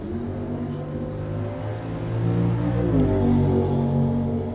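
A drag racing car engine at a bracket race idles with a low, rumbling hum, then swells into a louder, rising rev midway before settling, heard from nearby.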